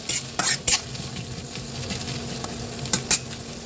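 Sliced onions sizzling in hot oil in a pan while being stirred for a Bengali singi fish curry, a steady close fry hiss broken by several sharp scraping strokes of the spatula.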